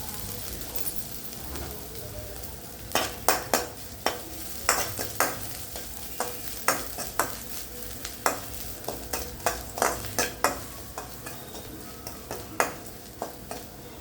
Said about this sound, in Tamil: இந்த நெய்யிலேயே கொஞ்சம் நமக்கு எவ்வளோ தேங்காய் வேணுமோ அவ்வளோ வறுத்து எடுத்துக்கலாம்